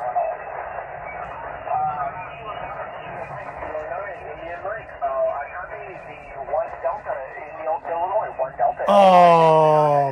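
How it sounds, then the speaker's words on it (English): Ham radio receiver on the 40-meter band carries voice contacts as narrow, tinny single-sideband speech, with overlapping talkers and steady background hiss. A louder, fuller voice cuts in at the very end. "I'm trying to make voice contacts on 40 meters."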